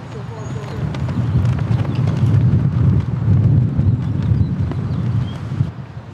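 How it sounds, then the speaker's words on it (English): Strong wind blows outdoors beside a building with a flag, buffeting the microphone with a low, rumbling roar that surges and eases continuously, fairly loud and close. "it's very windy out."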